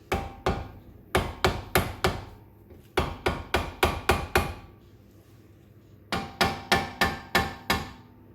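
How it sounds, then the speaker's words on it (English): A hammer strikes the front brake of a 2000 Audi A4 B5 in quick bursts of sharp metallic blows, three clusters of about five to six hits each, close and loud with no talking. "Let's get a hammer."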